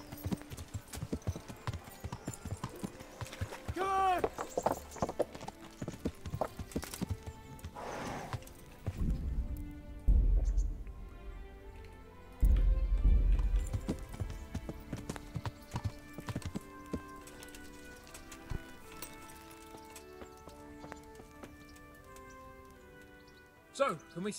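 Horse hooves clip-clop in a steady walking rhythm in the medieval game Kingdom Come: Deliverance, moderately close and mixed under music, with voices talking over parts of it.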